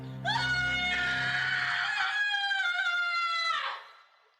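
A man lets out one long, loud, sustained scream lasting several seconds before it cuts off, the closing moment of the horror film Troll 2.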